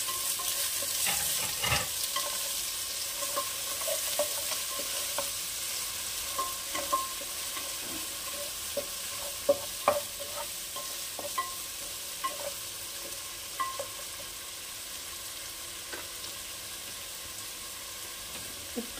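Chopped onion fries in oil in a pan, a steady close sizzle with scattered scrapes and taps of a spatula stirring through it at irregular intervals.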